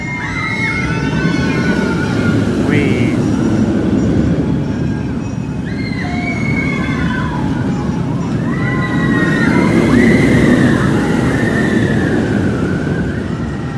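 Ride train at Universal Studios Singapore rushes past in a loud, continuous roar of wheels and wind, with high screeching tones and distant screams layered over it throughout.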